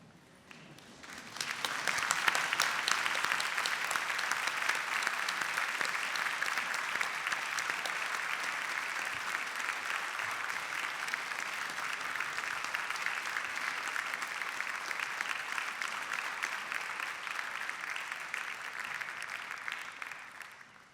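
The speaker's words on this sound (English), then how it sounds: "I'm going to ask our graduands now to stand up and turn round and applaud your family and friends for all of the support they have given you." Sustained applause from graduates standing to clap for their families and friends at a university degree ceremony, a broad steady roar of many hands in a large hall lasting the whole stretch without voices.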